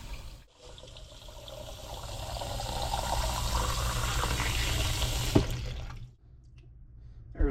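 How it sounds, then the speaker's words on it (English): Tap water runs steadily into empty bottles being filled as a drinking supply ahead of a hurricane, a continuous close splashing stream that cuts off briefly near the start and stops near the end. "I fill them up when a hurricane's coming"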